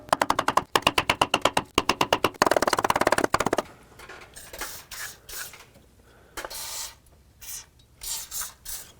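Lubricant sprayed from an aerosol can onto a seized aluminum starter on an iron engine block of a 2001-07 Toyota Sequoia: rapid bursts of hissing, then a few longer, softer sprays up close.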